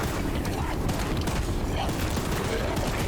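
Rapid gunfire aimed at the monstrous train Charles in the horror game Choo-Choo Charles, a dense continuous rattle of shots with clanking mechanical noise, loud and sustained throughout with no pause.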